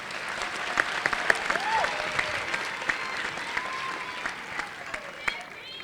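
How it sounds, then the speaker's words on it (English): A crowd at a Black Celebratory evening event applauds its student organizers, steady dense clapping filling the room with a few sharper claps standing out and faint voices mixed in beneath. "Please give them another round of applause for their time, creativity, and leadership."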